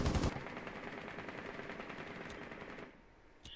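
Gunfire from the Rainbow Six video game, fairly quiet: a sustained rapid rattle of automatic shots that breaks off near the end and leaves a couple of isolated cracks.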